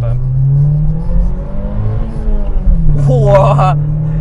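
Toyota Altezza RS200 with a 3S-GE dual VVT-i engine revving, its steady close engine note rising and falling in pitch, while people talk over it near the end.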